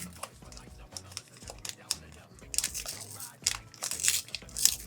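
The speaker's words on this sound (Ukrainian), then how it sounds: "Дуже незручно відкриваються бумажні пакетики" Crinkly paper packets of McDonald's Pokemon cards being torn and peeled open in short, irregular bursts of rustling and crunching, close up, with some quiet background noise.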